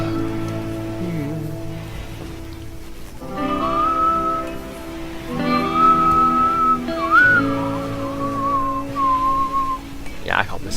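A person whistles a wandering tune in steady, close notes over a soft backing of music and low ambient noise, with brief pauses between phrases.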